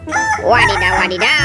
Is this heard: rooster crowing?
yes